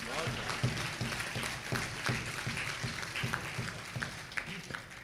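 Audience at a speech event at Rashtra Manch in Mumbai clapping, a sustained patter of many hands with rhythmic bursts, mixed with crowd noise throughout.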